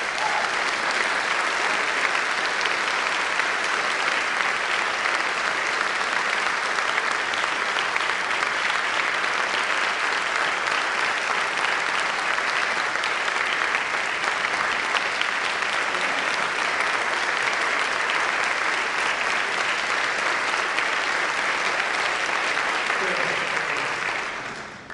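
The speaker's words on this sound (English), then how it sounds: "I want you to give them a warm round of applause." A temple congregation gives its Unity ministers a warm round of applause, a loud, sustained wall of clapping lasting the whole stretch before tapering off at the very end.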